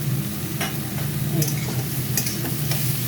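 Chopped onions and tomato fry in a pan, a steady close sizzle with light scraping and clicking from stirring throughout.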